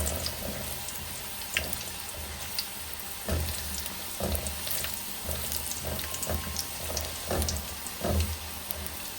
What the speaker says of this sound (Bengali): তেলের মধ্যে রসুন আর শুকনো মরিচ দিয়ে দিলাম ফোড়নের জন্য।